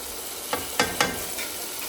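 Tomatoes with red chili, salt, turmeric, cumin and dried coriander cook in a pan, a steady close sizzle broken by three or four scraping stirs of a spoon.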